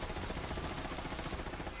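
A Light Show weapon in Borderlands 3 fires a dense, unbroken stream of very rapid shots, loud and continuous throughout the short burst.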